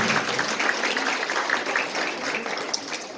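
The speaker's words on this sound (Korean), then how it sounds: "다시 한번 박수 부탁드릴게요" Steady, continuous applause from a wedding crowd fills the room, a dense patter of many hands clapping at a fairly even level throughout.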